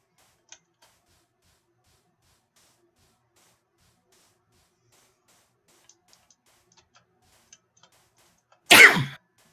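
A single loud sneeze near the end of a long stretch of near silence broken only by faint ticks and clicks, close to the microphone indoors.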